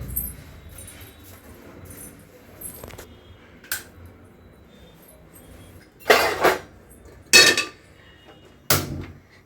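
Steel pots and a pressure cooker clatter and clank in a home kitchen as they are set out for tempering, with a few soft knocks and then three sharp, loud metallic bangs near the end.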